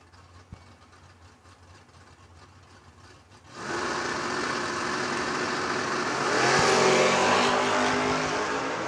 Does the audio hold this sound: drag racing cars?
yes